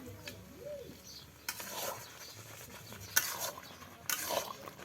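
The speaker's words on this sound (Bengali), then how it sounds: "এখন শুধু আমও ভালো করে নাড়তেই থাকবে, কারণ নিচে যাতে না লেগে যায়।" Mango pickle is stirred in a cooking pan, with intermittent scraping and stirring bursts over a quiet background and faint bird calls.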